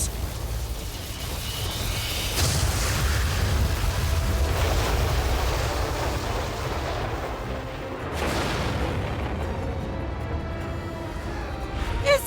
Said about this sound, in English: That's the sound of Lord Hadlar using his most powerful spell, Kaziz.